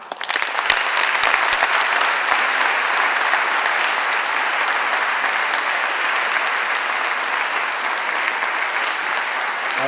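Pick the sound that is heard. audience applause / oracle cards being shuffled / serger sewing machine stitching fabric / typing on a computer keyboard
audience applause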